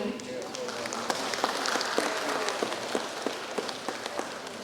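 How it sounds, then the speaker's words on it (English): Steady clapping from an audience in a lecture auditorium for a guest professor, moderately loud and continuous, with individual sharp claps standing out through the crowd noise. "And also a big applause for Professor Won-Koo."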